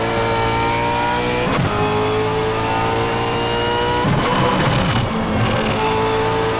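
A Reiza Super V8 race car engine at Bathurst in a racing game drones loud and steady. Its revs dip and climb again around the shifts and corners, and there is no talk.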